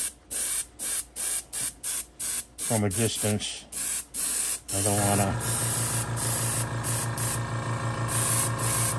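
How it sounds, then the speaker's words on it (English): Short bursts of aerosol spray paint hiss repeatedly onto a model's legs in body painting, then a longer continuous spray runs while a voice talks over it and music plays underneath. "we're going to try to spray her legs here"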